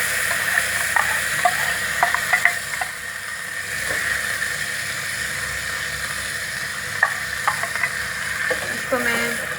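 Paste made from two medium onions fries in oil in a pan for fish curry, giving a steady, moderate sizzle up close with scattered spoon taps and scrapes from stirring.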